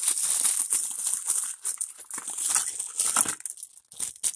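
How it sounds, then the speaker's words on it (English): Scissors slice open a plastic package of miniature Barbie cleaning items, producing close, steady crinkling and crunching of plastic for several seconds with brief pauses near the end. "scissors are now opening the package."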